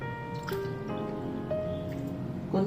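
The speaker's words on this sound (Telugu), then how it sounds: "కొంచెం ఒక ½ కప్పు నీళ్ళు పోసుకుంటున్నా." Half a cup of water poured into a pan of grape juice and sugar for syrup, soft dripping and splashing with a few wet squishes, close and fairly quiet, with faint tonal background hum.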